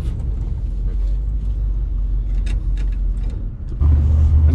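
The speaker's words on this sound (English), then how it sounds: "You turn it on to the on position, and you push the accelerator pedal." A 1955 Buick engine catches and settles into a steady, loud low idle rumble inside the car after a few seconds of quieter cabin noise and faint clicks.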